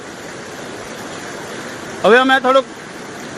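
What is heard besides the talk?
torrential water flow of the Ojat river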